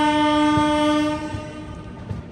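A shunting locomotive sounds a loud, sustained horn at the Yeshwantpur coach maintenance centre. The horn cuts off after about a second and leaves a rumbling rail yard with faint clanks.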